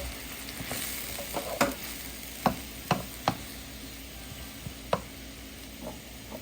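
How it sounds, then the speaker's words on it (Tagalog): Jackfruit stewing in coconut milk simmers and sizzles in a pan while a spoon stirs, producing a handful of distinct clicks and scrapes against the pan over a continuous close frying hiss. "And then, we have to halo."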